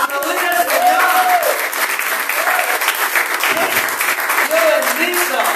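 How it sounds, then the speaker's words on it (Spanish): Loud, sustained clapping from a church congregation fills the room, dense and continuous, with voices calling out over the applause. "¡Aplaudir al Señor!"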